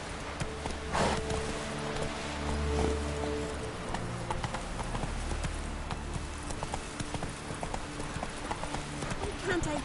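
Steady clip-clop of horse hooves in The Witcher 3 video game, a continuous trotting rhythm up close under a low music bed, with someone talking over it and a faint rain-like hiss.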